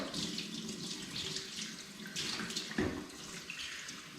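A sea bream is washed under a running kitchen tap, giving a continuous rushing splash of water with uneven spatter as the fish is turned, quiet and close.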